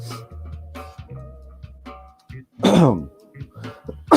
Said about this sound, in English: like a snuff, a sneeze and a cough at the same time